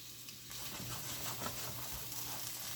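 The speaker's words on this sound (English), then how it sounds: "let y'all see this start frying up here" Faint, steady sizzling of chicken frying in a pan with a soft crackle and low background hum, no talking.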